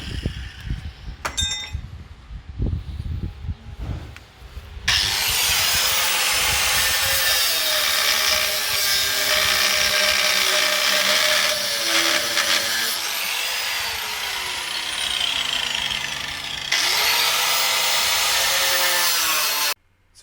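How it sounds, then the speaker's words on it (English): Power tool trimming metal while a bullbar is fitted to a Baby Cummins truck, opening with clinks and knocks before a loud, continuous grinding whine runs for about fifteen seconds with brief dips in pitch and ends abruptly. "what Joel's doing here is just a little bit of trimming"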